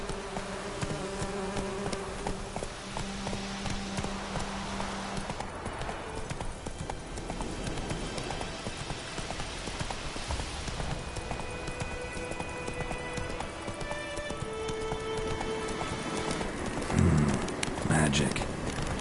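Roach the horse galloping in The Witcher 3: Wild Hunt, a steady rhythmic clip-clop of hooves running for the whole stretch, with a buzzing insect-like drone and a few spoken words over it.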